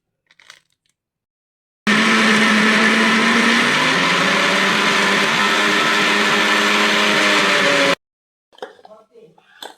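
A mixer grinder blends spinach for palak paneer in one loud, continuous whirring burst of about six seconds, with a few brief spoken words just before and after.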